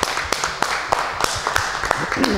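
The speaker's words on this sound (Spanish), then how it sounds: "¡Aplausos para Juan y para Óscar!" Applause for Juan and Óscar on a Canal Costa Marbella programme, rhythmic clapping at a steady beat under a voice talking.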